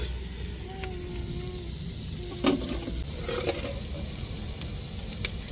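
Onions sautéing in a pan in a home kitchen, a steady soft sizzle with stirring scrapes and one brief clatter, close and continuous with no talk.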